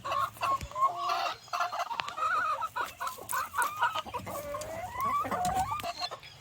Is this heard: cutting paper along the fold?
no